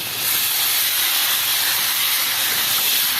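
Water poured into a hot pan of fried pointed gourd and spices, giving a loud, continuous hiss of steam that holds steady throughout with no speech.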